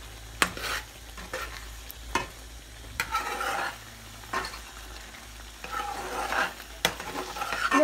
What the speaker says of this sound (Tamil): நம்ம கரைச்சி வச்சுருக்கிற இந்த பொறிக்கடலை மாவை கொஞ்சமாக இதில் சேர்த்துக்கிறேன்